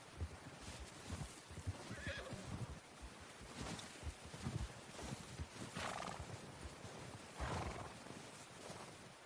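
A horse in the video game Red Dead Redemption 2 gives several whinnies and snorts over a dense, noisy outdoor ambience of wind and hooves, moderately close with no talking.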